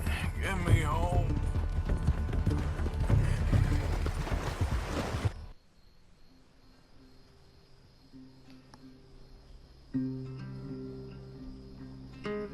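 A horse's hooves clip-clop in Red Dead Redemption 2, a busy rhythmic patter mixed with someone talking for the first half, then quiet game music with sparse sounds.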